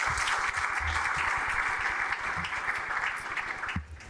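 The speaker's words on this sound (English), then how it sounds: "Please give her a round of applause" A conference audience at a bioeconomy summit plenary applauds steadily, a broad even wash of clapping at moderate volume lasting about four seconds before dropping off at the end.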